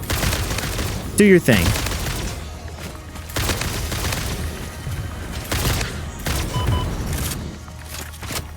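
Homing rifle gunfire in a factory-building video game while hunting Somersloops and Mercer Spheres: scattered heavy bursts and booms over a constant noisy game background, partly under a speaking voice.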